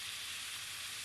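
Aromatics stir-fry in a dry pan for a Thai fish dish, giving a continuous, close hiss of sizzling with no talk.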